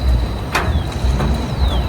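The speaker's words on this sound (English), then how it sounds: "This car is running rough." A Mitsubishi Evo 9 with a big-block engine and PTE 64mm turbo idling roughly, a deep uneven rumble with a faint steady whine above it, close and continuous throughout.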